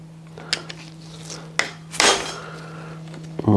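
A hammer strikes the back of a brake return spring on a three-wheeler in a few sharp metallic blows, separated by short quiet gaps, close up and loud.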